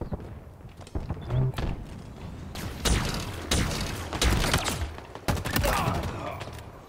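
Gunfire from aimed shooting in the video game Halo Infinite comes as several loud, sharp bursts and thuds spaced across the stretch, with a person talking over and between the shots.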